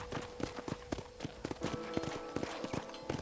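Steady clip-clop of horse hooves in the video game Red Dead Redemption, a quick rhythmic run of hard knocks repeating evenly over a low background hum, fairly close.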